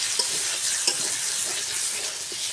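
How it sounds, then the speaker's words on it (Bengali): Cauliflower stir-fried with spice paste in a pan, an even close sizzle with a few spoon scrapes and taps spaced apart, no voices. "ফুলকপিটা সুন্দর করে আমি কষাই নিয়েছি মশলার সাথে"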